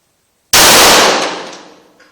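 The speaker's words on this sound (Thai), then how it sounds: "ยิงทีละนัดยิงปืนยิงทีละนัด" A single sharp pistol shot cracks loudly at a 25-metre shooting range after a moment of silence, then rings out and decays over about a second and a half.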